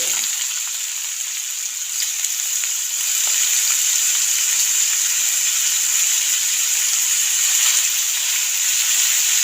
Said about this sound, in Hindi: प्याज हमने अच्छी तरह फ्राई करने हैं।